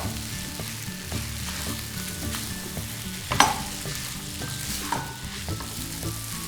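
Sabbakki uppittu being stirred and mixed in a pan on the stove: a steady soft sizzle under repeated scraping strokes of a spoon, with one sharper metallic clank midway, fairly close, and no voices.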